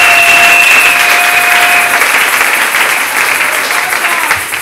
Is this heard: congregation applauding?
yes